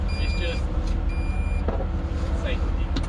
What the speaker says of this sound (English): Is that why it's beeping when you're swinging?